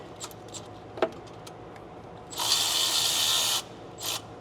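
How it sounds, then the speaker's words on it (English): A ratchet wrench clicks in a fast steady run as it backs a 10 mm nut off the intake of a 6.7 Ford Powerstroke diesel, with a shorter burst of clicks after a pause and a few light metal taps before, close and clear. "We're gonna take this 10 mil nut off of the intake."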